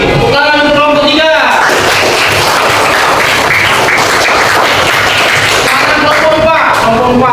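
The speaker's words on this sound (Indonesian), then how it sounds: "Oke, tepuk tangan untuk kelompok 3." Classroom applause for a student group in a lesson, a dense burst of many hands clapping loudly for several seconds, with voices at the start and end.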